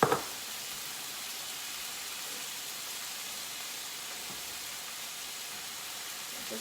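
Chicken seasoned with salt, pepper and garlic sizzles steadily in a frying pan, a soft, even hiss that carries on unbroken and fairly quiet, with a faint clatter at the very start.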